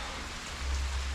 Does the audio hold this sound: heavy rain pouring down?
yes